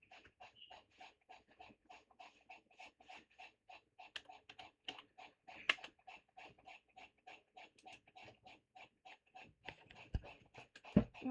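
Steady, evenly spaced clicks of typing on a computer keyboard, heard close and fairly quiet, with a couple of heavier knocks at the end.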